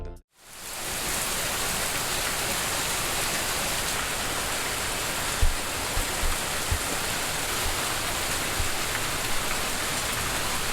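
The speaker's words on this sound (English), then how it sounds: "So as you guys can see, we're constantly getting rain." Steady rain falls outside in a dense, even hiss that carries on for several seconds, with a few faint thumps near the end and no voices.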